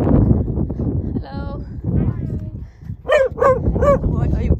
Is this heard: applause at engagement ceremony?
no